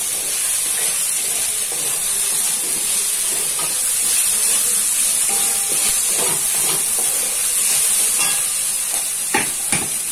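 Okra frying in oil in a pan for a Telugu yogurt curry, a steady loud broadband sizzle with clinks and scrapes of stirring throughout, no talk.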